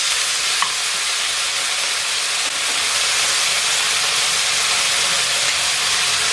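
Steady, loud sizzle of fish noodles being stir-fried in a pan with long beans and fish sauce for a yellow-chili dish, a continuous close hiss with no voices.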